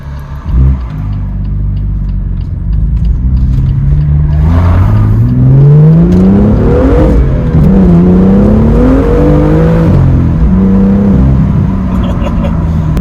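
BMW M2 with the N55 engine and manual gearbox on a drive, its engine revving loud and close in repeated rising and falling sweeps as it climbs through the gears.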